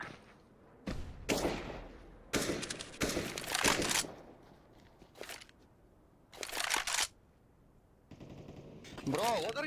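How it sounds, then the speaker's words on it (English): A flashbang in a video game gives a series of loud bursts and crunching blasts separated by quieter gaps, with a bright rising tone at the end. "Throwing a flashbang."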